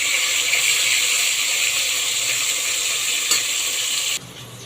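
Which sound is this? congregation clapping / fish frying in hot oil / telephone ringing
fish frying in hot oil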